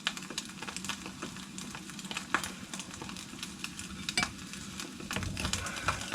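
Oil frying food in a camping pan outdoors, a steady soft sizzle with occasional stirring clinks and scrapes, fairly quiet and continuous with no talking.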